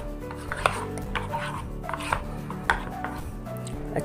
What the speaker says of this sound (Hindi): डाल के इसको अच्छे से फेंट लेती हूँ।